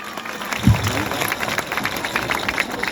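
A live mimicry comedy show audience applauding. A short burst of clapping with a thump near the start runs continuously to the end, mixed with crowd noise.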